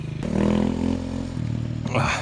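Dirt bike engine, one of a GasGas EC 300, KTM EXC-F 350 or Alfarad 250 enduro motorcycle, revving up close in a short burst with a rough two-stroke-like rattle, then dropping back as it pulls away.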